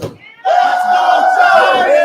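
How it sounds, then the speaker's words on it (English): A rowdy crowd of Giants fans in a Brooklyn pub erupts into a loud, sustained collective roar and cheer after a brief quieter moment, close and dense. "The crowd is rowdy, setting the scene."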